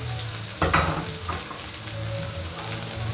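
Onions and green chillies sizzle steadily in a pan, with a few louder stirring scrapes breaking through the continuous frying hiss.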